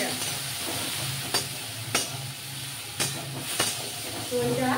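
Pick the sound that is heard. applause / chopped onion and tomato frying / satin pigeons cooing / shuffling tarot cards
chopped onion and tomato frying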